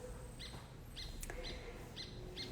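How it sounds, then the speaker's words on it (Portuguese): Birds sing in the morning, short bright chirps repeating about every half second, clear but not close, over a soft steady background hum with no voices. "Esses passarinhos ali, ó."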